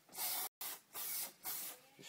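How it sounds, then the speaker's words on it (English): Glue activator spray hisses from a can in several short bursts with brief pauses between, close and fairly loud, while a cardboard scope is being assembled. "an activator. It's a spray."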